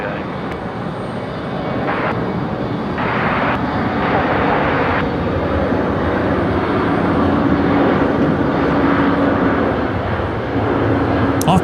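An airliner takes off from an intersection on a Brisbane Airport runway at night, with a broad, loud engine roar that builds and holds steadily, heard from a distance and partly overlaid by talk.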